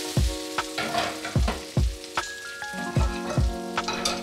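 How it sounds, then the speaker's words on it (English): Ground meat frying in olive oil with seven spice, salt and pepper, a close sizzle broken by repeated heavy thuds and scrapes as the meat is broken up, no voices. "Cook the meat in 1 tablespoon of olive oil and season with Arabic 7 spice, salt, and pepper"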